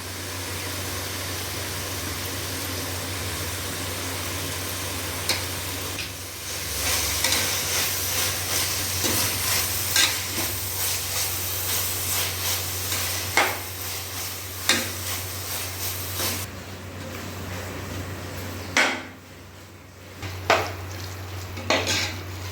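Steady sizzling in a pan as coriander and mint are sautéed for tomato rice, with occasional sharp scrapes and clinks of a spoon stirring, continuous and close, no voices.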